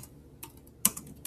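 Keys tapped on a computer keyboard while a search is entered, a few sparse clicks with one sharper keystroke near the end, close and quiet with no talk.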